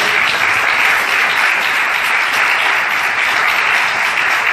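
A church congregation claps loudly and steadily in a dense, unbroken wave of applause, close and even from start to finish.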